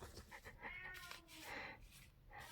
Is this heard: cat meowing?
yes